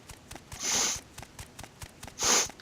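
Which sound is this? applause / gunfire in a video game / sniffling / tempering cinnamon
sniffling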